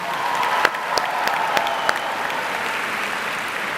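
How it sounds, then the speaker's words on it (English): Large auditorium audience applauding steadily at a science fair opening ceremony, a dense even wash of clapping with a few sharper individual claps standing out, lasting throughout. "big round of applause."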